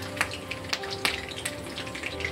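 Mustard seeds crackling and sizzling in hot oil for a village-style brinjal potato curry, with steady frying hiss punctuated by sharp pops and spatters at close range.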